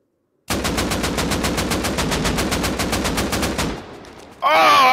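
Automatic gunfire in the console version of the game Rust: a loud, rapid, evenly spaced burst of shots lasting about three seconds, then a brief pause before a voice starts speaking.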